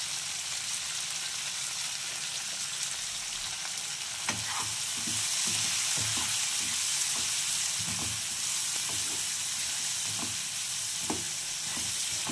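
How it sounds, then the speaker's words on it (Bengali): Potatoes and long beans frying in a pan, a dense steady sizzle with regular stirring strokes scraping through it, close and fairly loud. "আমার আলুটা অনেকটা ভাজা হয়ে গেছে, বরবটি আলু ভাজাটা হয়ে গেছে"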